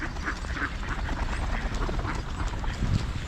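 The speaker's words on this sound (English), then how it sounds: "Ducks fly together, guys." Local ducks quack repeatedly at close range outdoors, a steady jumble of nasal calls overlapping one another with a slightly louder burst near the end.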